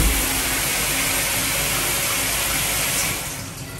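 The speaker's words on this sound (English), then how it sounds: "this is a button you press down, and you have anywhere from 5 to 15 seconds of water running" Water gushes steadily from a push-button shower tap in a university dorm bathroom, a continuous loud hiss that holds for several seconds before easing slightly near the end.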